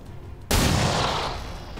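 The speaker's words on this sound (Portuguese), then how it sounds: "toma um tiro de escopeta" A shotgun blast in the turn-based strategy video game XCOM 2 hits suddenly after a brief quiet, loud and close, its broad roar tailing off slowly over more than a second.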